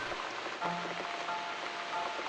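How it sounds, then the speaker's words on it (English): Rain falling in The Cat Lady video game, a steady soft patter filling the background at a moderate, even level with faint scattered tones over it. "Looks like we got the rain back."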